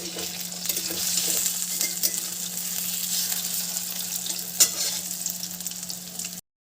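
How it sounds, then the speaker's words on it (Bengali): Pieces of pointed gourd (potol) fry in a pan while being turned, a steady close sizzle with scattered light scrapes and knocks of the utensil, including one sharper clink, before it stops abruptly. "এই যে পটলগুলো ভেজে নিচ্ছি"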